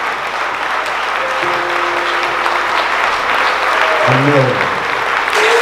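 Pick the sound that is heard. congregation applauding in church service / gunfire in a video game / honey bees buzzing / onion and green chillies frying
congregation applauding in church service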